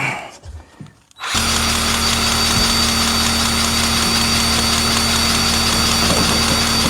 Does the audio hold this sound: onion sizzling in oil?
no